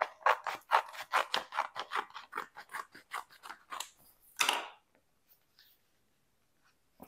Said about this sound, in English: I'm going to cut this part out.